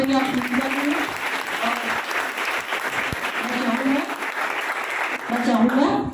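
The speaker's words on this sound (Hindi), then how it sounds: "और एक बार जोरदार तालियों से स्वागत करेंगे आप" An audience applauds loudly and steadily at a coaching class gathering, the clapping running throughout while a voice talks over it in stretches.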